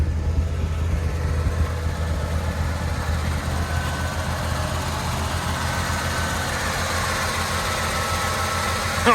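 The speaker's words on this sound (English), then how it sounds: "Oh, she's revving to the moon now." A classic car engine revved hard, a loud, sustained low drone close by that holds steady for several seconds with a vibrating mechanical hum and no talking.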